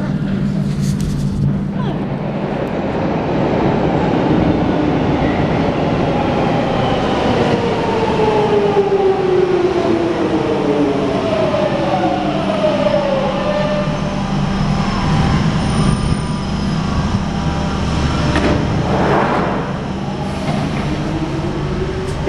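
A London Underground train runs along the track with a loud, continuous rumble and rising and falling whines from the motors, and a brief squeal partway through.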